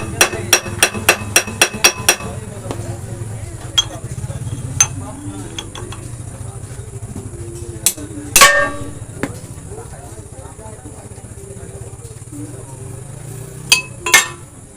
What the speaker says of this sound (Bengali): পোলা দিয়ে বাড়ি দিয়ে হালকা করে বাড়ি দিলে জিনিসটা কিন্তু বেরিয়ে যাবে